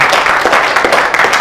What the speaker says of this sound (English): please give a round of applause to Mr. Kong Hong Fa.